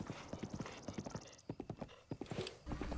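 Horse hooves clip-clop at a steady trot in the video game Breath of the Wild, close and rhythmic, with a short whinny-like flourish and a low rumble at the end.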